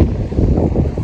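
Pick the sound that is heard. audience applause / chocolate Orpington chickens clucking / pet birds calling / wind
wind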